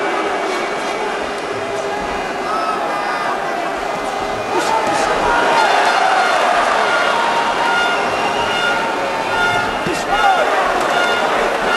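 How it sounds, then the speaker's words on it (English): Irish fans at the Amir Khan vs Paul McCloskey boxing match boo Khan, a dense, loud crowd roar that holds steady throughout and swells slightly in the middle. "Irish fans booing Khan for turning his back"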